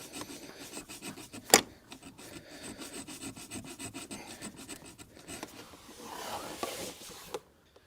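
Metal being filed off a Rover 75 thermostat, a steady run of close, rasping strokes with one sharp knock partway through and a brighter scraping burst near the end, with no talking.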